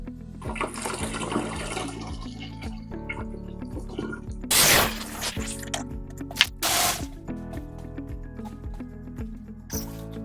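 Water running and splashing into the tank of a Flowzone Typhoon sprayer during filling, a steady low wash with a couple of louder gushing bursts near the middle, close by.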